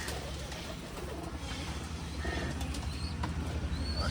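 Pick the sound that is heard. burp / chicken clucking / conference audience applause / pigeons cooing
pigeons cooing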